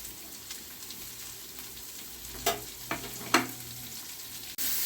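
Onion sizzling and being sautéed in a pan for a samosa filling of potato and peas, a steady low frying hiss with a few sharp scraping stir strokes, close by and alone.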